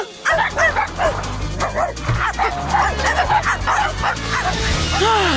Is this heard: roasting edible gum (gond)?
no